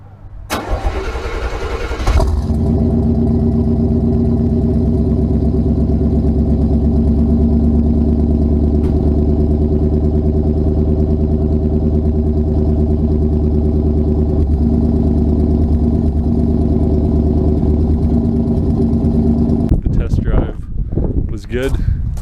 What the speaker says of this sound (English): Cold start after about 4 months.